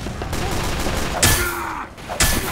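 Rapid bursts of video game gunfire from a team-based shooter crackle almost continuously for a few seconds, with sharper loud shots near the middle and end.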